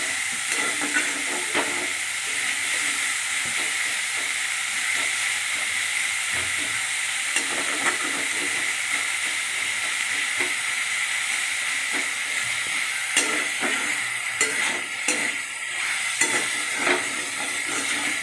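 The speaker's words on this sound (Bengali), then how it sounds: "নাড়াচাড়া করে ভালো করে ভাজতে হবে।" Onions for sweet and sour chicken being stirred and fried in a pan give a continuous loud hissing sizzle, with occasional sharp scrapes and clicks from stirring throughout, steady and close, no voice.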